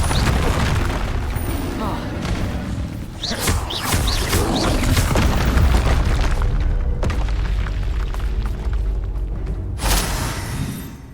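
Confringo fire-blast spells explode in Hogwarts Legacy, with booming blasts and crackling bursts over game ambience and a voice calling out spells.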